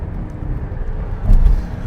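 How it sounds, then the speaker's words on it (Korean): A deep, thick exhaust rumble from a 2021 Audi S6 TDI diesel in dynamic mode with variable exhaust, steady and throaty, swelling briefly louder near the end. "가변배기를 통해서 조금 더 두터운 그런 사운드가 뿜어집니다"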